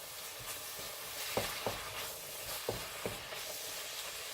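Beef and broccoli sizzle in a hot pan with a constant hiss, while soft scraping knocks of tossing and stirring break through at irregular moments.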